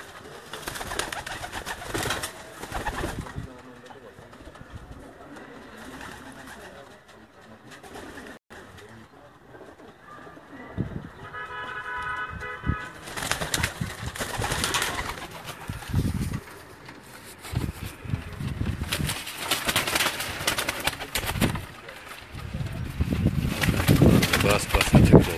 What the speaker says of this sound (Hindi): आप मेरी स्क्रीन पर कबूतर देख रहे हैं ये चौधरी शमरेज साहब के घर के ब्रीडर जो कबूतर हैं